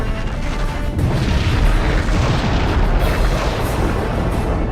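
A Klingon vessel explodes in Star Trek Legacy, a loud, sustained rumbling blast with crackling debris that holds at full strength for several seconds, with no talking.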